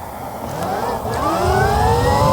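A budget electric dirt bike accelerates hard from almost a standstill toward top speed, its loud motor whine climbing steadily in pitch over a rushing roar of wind and tyres.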